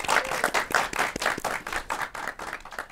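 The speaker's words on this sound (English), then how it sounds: "Give yourselves a round of applause." A live studio audience at a children's talk show claps enthusiastically, a full, even wash of many hands with crisp individual claps, sustained throughout without talk over it.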